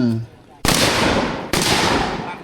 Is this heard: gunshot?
yes